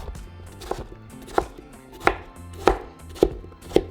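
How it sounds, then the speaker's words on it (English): A knife chops a cucumber into small cubes on a board for a Mexican manzanas locas snack, six or seven crisp, close knocks spaced unevenly about half a second apart with no voices. "we're going to cut into small cubes"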